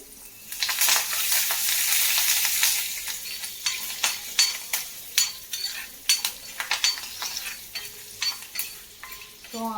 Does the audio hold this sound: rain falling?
no